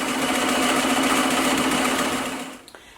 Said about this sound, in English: So I'm going to let this stitch out